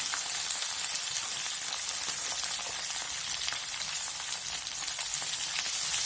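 Okra masala frying in a pan, a soft, steady crackling sizzle at low level that continues evenly with no talking.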